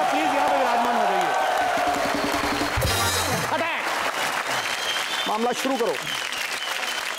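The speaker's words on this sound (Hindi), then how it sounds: "जोरदार तालियां धर्म पाजी के लिए।" Studio audience on a Bollywood television show applauding and cheering for Dharmendra, loud sustained clapping with whoops, while a host speaks over it and a short musical sting cuts in midway.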